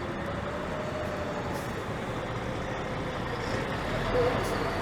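Truck idling and turning at an intersection on a Toronto city street, a low, steady engine rumble amid traffic, heard from a nearby e-scooter.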